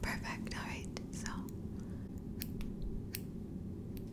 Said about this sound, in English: So I'm just going to be lightly trimming your eyebrow hair